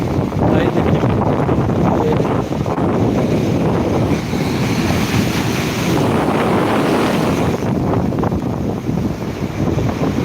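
High tide waves surge onto Digha beach at night, a dense continuous roar of surf mixed with heavy wind buffeting the microphone, loud and unbroken throughout.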